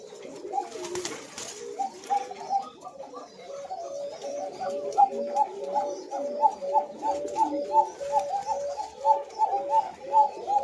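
Pigeons cooing as a male and female are being paired, repeated rhythmic throaty coos close by, growing more regular and insistent toward the end.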